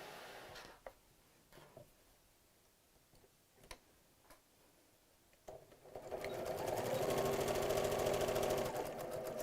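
Sewing machine stitching a buttoned cushion cover, a few sparse ticking stitches at first, then a steady fast mechanical whirr of continuous sewing, fairly quiet and close, with no talking.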